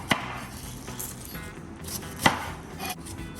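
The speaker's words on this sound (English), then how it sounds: "Thinly cut the skin from top to bottom, wasting little as possible." A knife works through the tough skin of a pineapple on a cutting board, giving a few sharp, close chopping strokes with quiet scraping in between.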